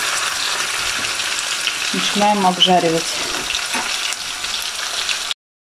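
Steady, dense sizzling of potatoes frying in hot oil in a pan over high heat, with a brief voice speaking partway through over the crackle.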